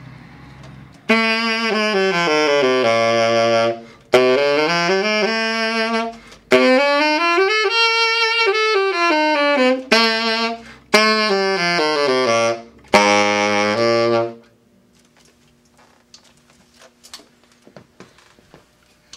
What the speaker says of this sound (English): we have the tenor saxophone